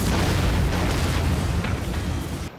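A bomb goes off in a Batman video game, a loud sustained rumbling blast that fills the clip and tails off at the end.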